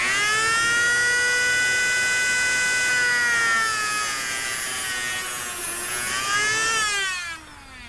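A moto tool cuts into coax cable outer insulation, a loud, high-pitched whining drone that holds steady, dips and rises in pitch as the bit loads, then winds down at the end.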